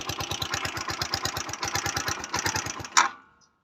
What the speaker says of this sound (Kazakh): Мотоцикл оталып тұрмын екеуін қосқан кезде.